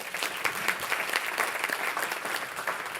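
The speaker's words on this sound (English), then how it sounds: "round of applause" An audience at a business forum in Auckland claps steadily for a few seconds, a dense patter of many hands at an even level with no talk over it.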